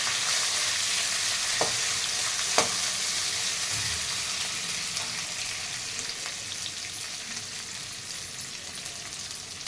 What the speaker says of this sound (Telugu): ఆనియన్ వేసాను ఫ్రై అయింది